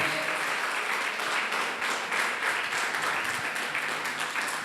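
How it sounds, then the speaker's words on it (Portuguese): A church congregation applauds during a Sunday service, a sustained, even roar of many hands clapping at moderate distance, filling the room throughout. "Aplauda o nome dele em nome de Jesus."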